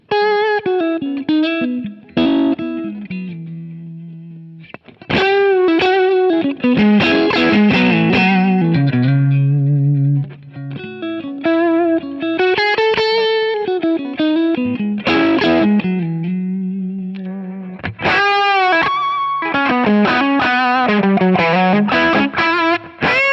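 Electric guitar played through a Kingsley Minstrel overdrive pedal, giving a loud, distorted, harmonically rich tone with sustained chords and melodic lines in continuous phrases and no talking.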